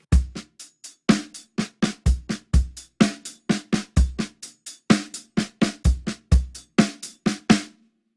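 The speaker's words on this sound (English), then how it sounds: "we're going to play the paradiddle over the top of that bass drum rhythm," Single paradiddle sticking played across a drum kit over a rock bass drum pattern, giving a busy, even stream of close strokes with regular kick accents, played alone with no voices.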